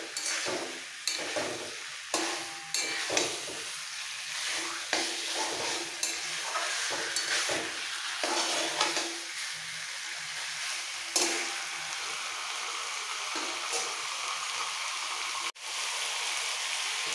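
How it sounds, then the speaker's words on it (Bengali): Marinated chicken and spices are stir-fried in a pan, with a continuous sizzle broken by repeated scraping strokes and clacks of a spatula, close by and with no talking. "এবার একসাথে সব কষাবো, কষাতে কষাতে চিকেনটা ভাজা হয়ে যাবে।"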